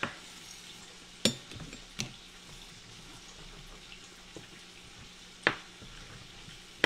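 Fried green tomatoes sizzle steadily in a pan in a home kitchen, a soft continuous hiss broken by several sharp clinks and clatters of utensils against the cookware.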